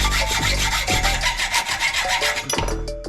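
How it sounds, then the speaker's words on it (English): A hacksaw cuts into a BMX bike fork in a workshop, giving a steady, loud rasping stroke sound with metallic ringing overtones, continuous for a few seconds, then a sharper scrape near the end. "We have a hacksaw and we're gonna cut straight into it right now."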